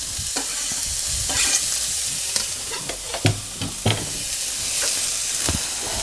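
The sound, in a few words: onion frying on high heat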